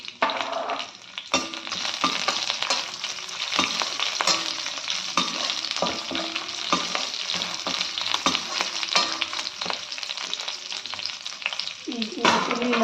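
Dried red chillies and sliced green chilli fry in hot oil for a crunchy chickpea snack, with a constant close sizzle and crackle broken by occasional stirring scrapes and clinks.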